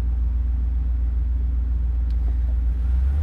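Low, steady engine rumble from a Pontiac Trans Am, a continuous deep drone that holds evenly throughout with no talking over it.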